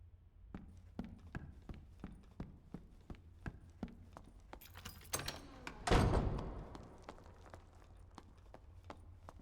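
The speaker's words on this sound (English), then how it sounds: "We hear an escape portal pop up" In the Dark and Darker video game, an escape portal pops up with a sudden burst of whooshing noise that swells and fades, heard over a steady run of footsteps.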